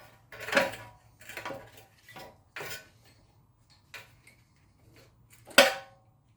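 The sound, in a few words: pulling an old brake pad off a BMW F30 rear brake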